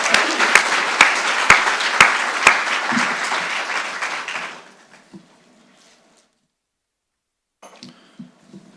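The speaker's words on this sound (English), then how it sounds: "Give a round of applause for all these new promotions." Audience applause at a university convocation ceremony, dense clapping from a large crowd with a few sharp louder claps, dying away after about four seconds into near silence with faint shuffling.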